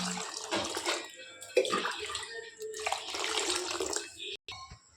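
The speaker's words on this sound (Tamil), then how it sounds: "நல்லா கழுவி எடுத்துக்கலாம்." Chopped eggplant pieces rinsed by hand in a bowl of water in a home kitchen, with steady splashing and sloshing close by and a brief pause near the end.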